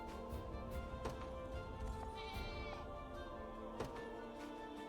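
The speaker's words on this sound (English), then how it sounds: "Wait, they're angry goats." Angry goats in the video game Unicorn Overlord, a few bleats rising over dense game music and effects, fairly faint within the mix.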